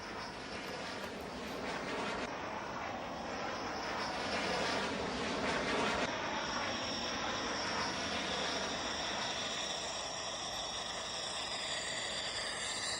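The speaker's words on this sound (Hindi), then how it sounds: "देखिए किस तरह से ये फाइटर जेट टच कर रहा है रनवे को" A Rafale fighter jet landing on a runway gives a loud, continuous broadband engine roar with a high whine that holds steady throughout, with no voices.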